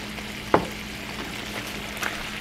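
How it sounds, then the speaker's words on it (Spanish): Soft, steady sizzling of onions frying in a pan, with a faint clink near the start and low background hum. "Se tiene que freír la cebolla para que sepa rico"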